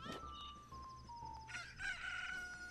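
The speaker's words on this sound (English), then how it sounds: "Chicken, don't run from me!" Rooster crowing in the Majora's Mask video game, a single drawn-out cock-a-doodle-doo at moderate volume mixed with synthetic game tones.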